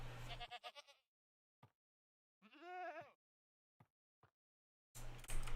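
Goats in Minecraft bleat in short separate cries, with a longer wavering bleat in the middle and clattering game noises at the start and end, set against near silence.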